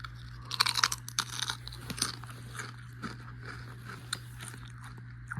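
A crunchy snack being chewed close to the mic, with loud crackling bites at first and then steadier crunching and smaller crackles over a low steady hum.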